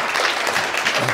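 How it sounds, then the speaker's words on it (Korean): Steady applause from a seated crowd at a Korean licensing-exam study gathering, a thick wash of overlapping claps that holds at an even level throughout. "자, 박수 부탁드리겠습니다."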